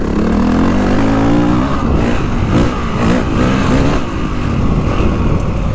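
Honda CRF450R Works Edition dirt bike, a 2025 model, with its engine revving out and pulling hard on a ride, a loud, continuous rising and falling engine roar close to the mic with no talking.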